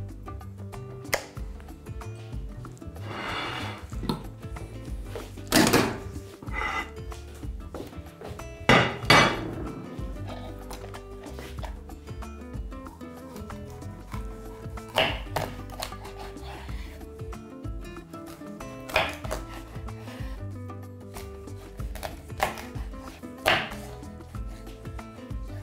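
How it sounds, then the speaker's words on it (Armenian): A knife cuts trout into portions on a board, with a steady run of sharp chopping thuds and knocks spread across the whole stretch, a few louder strikes standing out, all fairly close and without talk. "ձուկը կտրատում ենք չափաբաժինների։"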